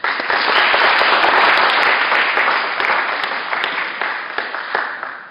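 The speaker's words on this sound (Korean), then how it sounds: "박수 많이 받습니다" A full congregation in a church applauds a visiting guest, a steady dense wash of many hands clapping that swells loud at first and slowly thins out toward the end, with no one speaking over it.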